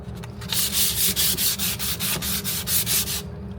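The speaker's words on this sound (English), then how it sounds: "I'm gonna sand this with 180 sandpaper, just to knock off the uneven area" Steady rhythmic sanding of teak wood with 180-grit sandpaper, brisk back-and-forth rasping strokes, close and continuous.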